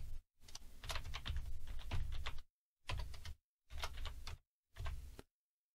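Computer keyboard typing in bursts, with rapid clicking keystrokes clustered in one long run and then three shorter groups, each separated by brief pauses, close and fairly quiet.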